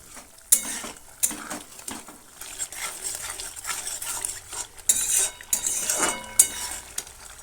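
Spinach curry being stirred in a pan after sugar goes in, loud clattering scrapes and clinks of a metal spoon against the pan over a faint sizzle, with no voices.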